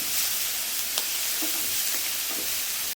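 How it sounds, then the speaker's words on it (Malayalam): Ginger, garlic and green chili paste fries in hot oil while being stirred, giving a steady broadband sizzle with a few soft scraping knocks, close and even throughout. "അതിലേക്ക് ഞാൻ ഇഞ്ചി വെളുത്തുള്ളി പച്ചമുളക് പേസ്റ്റ് ഒരു രണ്ട് സ്പൂണ് ചേർക്കുകയാണ് നമ്മൾ നന്നായിട്ടൊന്ന് പച്ചമുളം മാറുന്നവരെ വരെ ഒന്ന് ഇളക്കി കൊടുക്കണം"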